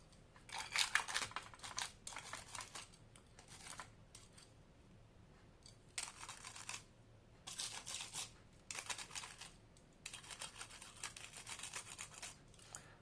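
Scissors cut through paper for scrapbooking in several separate bursts of quick, crisp snipping, each lasting a second or two with quiet pauses between, close but soft, with no one speaking.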